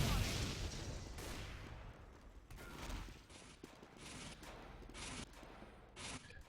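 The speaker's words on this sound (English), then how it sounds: "Saved by the sentry gun." A sentry gun firing in a team-based video game match, sustained rattling fire at the start, then repeated short bursts and impacts at irregular intervals amid busy game noise.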